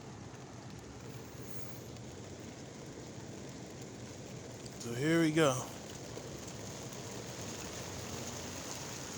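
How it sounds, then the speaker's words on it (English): Torrential rain pours down during a June 2021 thunderstorm in Poughkeepsie, a steady, even hiss that runs throughout, with someone speaking briefly midway over it. "Like I said, torrential downpour."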